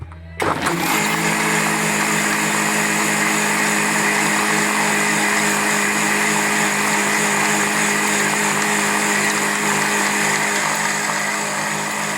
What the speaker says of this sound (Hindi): बस बहुत हो गए अत्याचार आप लोगों पे मिक्सर की आवाज सुना के